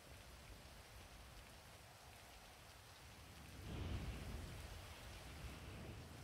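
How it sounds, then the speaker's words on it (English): Steady rain pours down outdoors, a dense even hiss of drops on surfaces with a low rumble that swells partway through, no voices over it. "Oh, it's raining."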